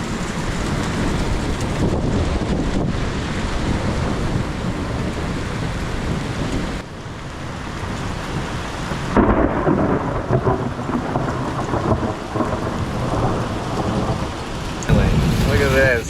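Heavy thunderstorm in North Carolina with loud rumbling thunder, steady rain and gusting wind, and small hail coming in, the roar dense and continuous with bursts of louder crashes partway through.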